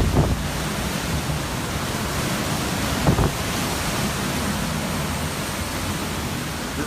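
Hurricane-force wind from Hurricane Irma on St. Thomas roars as a steady, loud broadband rush with no letup, a couple of brief gust thumps standing out.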